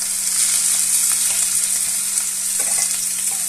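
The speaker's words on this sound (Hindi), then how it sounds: "अब मैं इसके अंदर ग्रीन चिलीज डालूंगी और साथ में रफली चॉप्ड अनियन ऐड कर देंगे" Green chilies and roughly chopped onion fry with cumin in hot oil while making soya chaap masala, giving a steady, loud sizzle with a few soft stirring scrapes and no talk.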